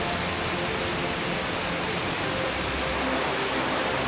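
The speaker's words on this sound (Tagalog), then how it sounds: "Malakas yung tubig tsaka blurry" Steady, dense roar of a strong waterfall at Central Cave in Samar, Philippines, constant and broadband, with no pauses or distinct events.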